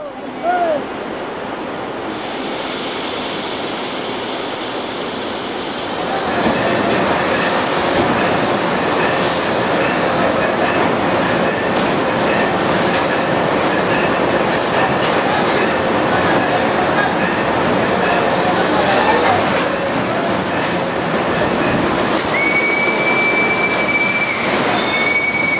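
A fireless steam locomotive in Cuba, fed from a hot water tank instead of a boiler, rolls along with loud rail noise, a steady rushing roar and squealing wheels, growing louder after the start.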